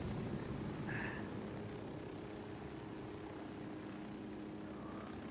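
A helicopter gives a faint, steady rotor-and-engine drone, low and continuous, from some distance, with no one speaking.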